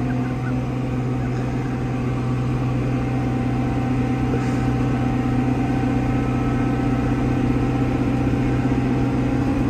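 A Fendt tractor engine drones steadily while driving and overtaking a Fendt 716 tractor on the way to sell wheat, a loud, continuous low rumble with no breaks and no voices.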